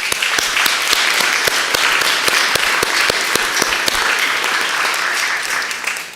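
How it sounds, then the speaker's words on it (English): A church congregation breaks into a round of applause at an annual meeting, loud dense clapping from many hands sustained evenly for several seconds before trailing off at the end. "please give her a round of applause."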